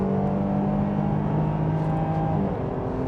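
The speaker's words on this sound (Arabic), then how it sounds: "تسارع تاني اهو لحد ال 140." A Jeep Grand Cherokee L accelerates toward highway speed, its engine and road noise a steady, rising drone heard from inside the cabin.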